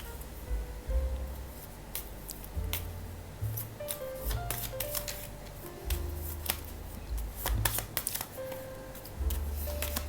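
Tarot cards being shuffled by hand in repeated riffling bursts with crisp flicks and taps, close and fairly loud, with small pauses between handfuls and no voices.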